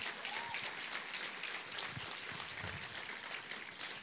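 Sustained congregational applause fills a church during a Spanish-language sermon, a steady broadband wash of many hands clapping with faint crowd noise, loud and continuous throughout.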